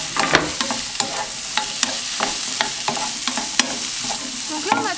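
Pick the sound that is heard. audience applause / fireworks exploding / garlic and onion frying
garlic and onion frying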